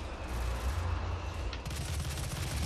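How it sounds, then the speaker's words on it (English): Assault rifle fire in the DOOM video game: a dense, sustained stream of rapid gunshots running continuously through the clip, loud and close, with a brief sharper burst partway through and no talk over it. "I'm ready to try this assault rifle out."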